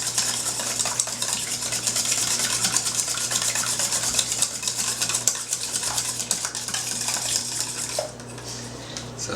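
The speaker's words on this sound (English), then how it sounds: "I'm going to whisk, get everything incorporated" Three eggs are whisked in a bowl with rapid, continuous clinking and scraping of the whisk against the sides, close and steady, easing slightly near the end with no voices.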